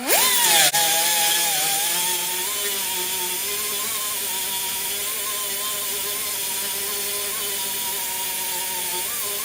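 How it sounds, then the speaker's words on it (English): A roll lock disc grinds a weld seam on car sheet metal during a Crown Vic swap, giving a loud, steady whine that holds at a constant pitch with a bright, gritty hiss, starting with a brief rising spin-up. "Now, I'm grinding right now with this edge of my roll lock"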